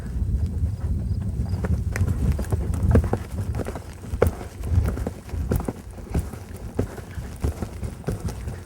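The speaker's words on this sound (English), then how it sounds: "So here's a bad canter." Horse hooves in a strung-out, almost four-beat canter, producing a steady run of close, fairly loud thudding footfalls without a clear three-beat rhythm throughout.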